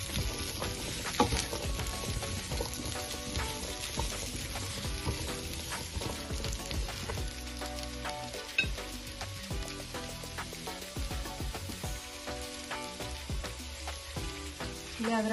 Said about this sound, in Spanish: Le agrego también los chiles.